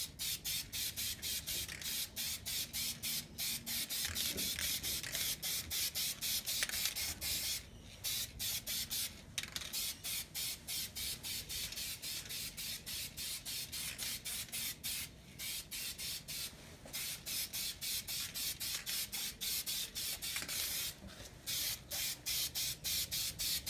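Short bursts of aerosol spray paint coat N scale model turntable and roundhouse parts black, a close, steady hiss repeated in quick pulses with brief gaps, alone without talk.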